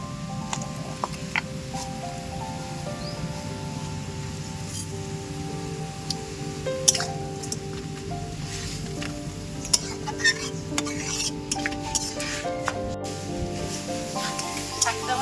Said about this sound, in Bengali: এবার ভালো করে একটু আমি ভাজবো শাকটা